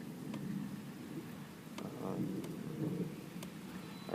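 Steady rain hissing outside a house during a thunderstorm, with faint distant thunder rumbles and a few sharp drips or crackles over the continuous wash.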